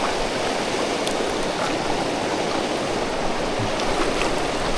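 A river in the Gunung Tahan rainforest flows strongly over slippery rocks, making a loud, unbroken roar and rush of water that stays constant throughout, with no voices.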